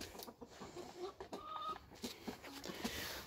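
Rooster clucking close by, a string of short soft clucks and grunts against quiet background noise.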